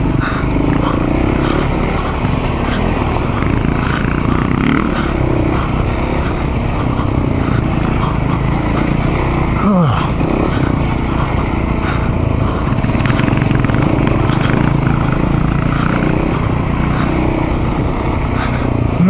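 Dirt bikes, a KTM 690 and a KTM EXC 525, ride through woods with a steady engine drone. It is loud and continuous for the whole stretch, with a brief passing sweep near the middle.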